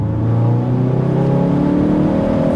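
A 380 bhp Ford Focus ST Mk4 accelerates hard, its engine note rising steadily in a loud, close, continuous drone, heard from inside the car with no talk.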